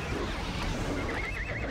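A horse whinnies in the online fantasy role-playing game Ultima Online, a wavering high-pitched neigh rising near the end over a dense, noisy game backdrop.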